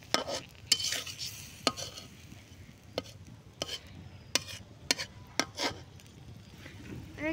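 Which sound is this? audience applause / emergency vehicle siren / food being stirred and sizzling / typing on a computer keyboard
food being stirred and sizzling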